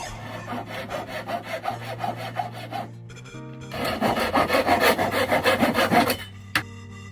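A hand saw cuts through bamboo cane for a quena flute in steady, close back-and-forth strokes, pausing briefly midway before resuming louder and faster, then stopping.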